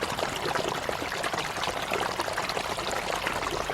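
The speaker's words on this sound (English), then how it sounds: "we hear and then see a rush of water from a flash flood" A flash flood rushes through a ravine, a dense, continuous roar of churning water, loud and steady throughout with no voices.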